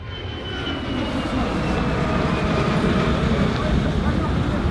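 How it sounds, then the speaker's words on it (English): Small plane flying overhead on a trek from Kathmandu to Lobuche East, a steady droning engine hum that swells slightly and holds loud and close under rushing ambience. "Small plane."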